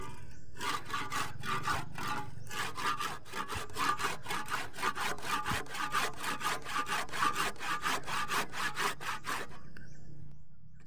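A hand saw cuts through a large banana trunk in a rapid, even back-and-forth rhythm of rasping strokes, close and continuous for about nine seconds, then stops.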